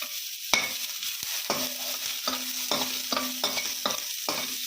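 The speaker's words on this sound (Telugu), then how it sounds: "ఇదే ఆయిల్లో ఆనియన్స్ కూడా వేసుకొని వేయించుకుందాం." Onions and fenugreek seeds frying in oil, a soft sizzle broken by repeated scraping strokes of a spoon stirring the pan, roughly eight stirs at an uneven pace.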